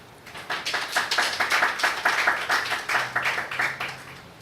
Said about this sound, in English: those two people deserve a round of applause